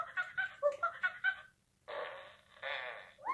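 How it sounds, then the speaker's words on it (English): A Fingerlings Hugs monkey plush toy gives electronic burp and chattering noises when shaken, a run of short bursts followed by longer, drawn-out burps, close and alone. "That was a better burp. That's a bigger burp."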